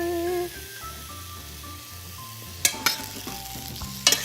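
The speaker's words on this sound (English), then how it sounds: "so I think it's time to add our cucumbers in there. Nice little refreshing. I'm gonna let those saute a little bit." Sliced radishes and cucumbers sautéing in a hot pan, a continuous close sizzle with a faint tonal hum at the start and a few sharp utensil scrapes and clatters near the end.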